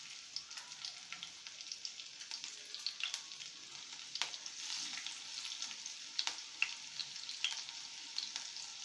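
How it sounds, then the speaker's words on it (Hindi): Mustard seeds, cumin and green chilies sizzle steadily in hot oil for an aloo chole curry, with frequent small crackling pops and light spattering throughout, moderately close and with no voices. "1 चम्मच राई, वह हरी मिर्ची डाल देंगे।"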